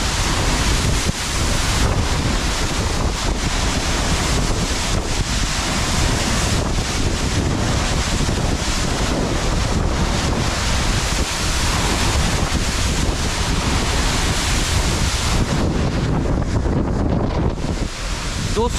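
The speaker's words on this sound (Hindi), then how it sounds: "हवा बहुत तेज़ चल रही है" Strong wind buffets the microphone at the Bhandardara dam, mixing with the roar of overflowing water in a dense, continuous rush that persists for the whole stretch with no talking.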